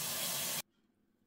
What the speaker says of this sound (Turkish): Suyunu da ilave ettim.